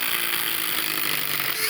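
DeWalt and Makita impact drivers running together in reverse, a loud, steady, high whirring hum that holds unbroken for the whole stretch, heard close up with no voices.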